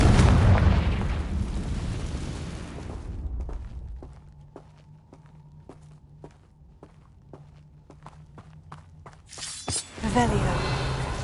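Blasting-spell explosions in Hogwarts Legacy: a loud fiery boom fading out, then a quiet run of regular clicking taps, and another burst of blasts near the end.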